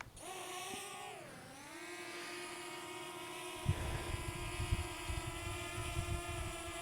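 A small Loolinn Z6 Pro GPS drone, under 250 grams, spinning up and lifting off nearby, its high whining propeller buzz rising and dipping in pitch before settling into a steady hum, with some light rustling underneath.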